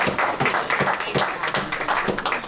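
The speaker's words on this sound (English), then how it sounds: "Please give an amazing round of applause" Steady applause from a crowd, many hands clapping continuously at a moderate level throughout.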